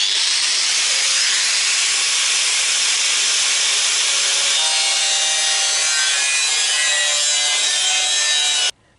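Steady, continuous sawing through sheet metal pieces for a Citroën Traction 11 and 15 steering rack job, a dense bright rasping hiss with a sustained metallic edge, loud and close, running without pause until it stops abruptly at the end.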